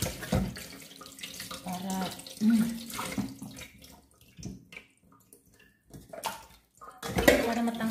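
Raw chicken meat is rinsed under a running kitchen tap, the water splashing and gushing in uneven bursts with brief pauses, while someone talks intermittently over it.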